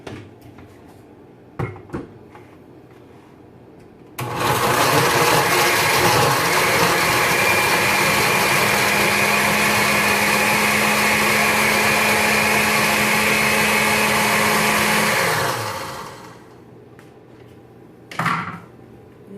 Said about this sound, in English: I'm now going to blend everything.